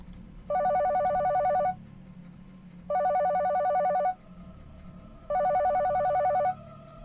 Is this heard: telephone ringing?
yes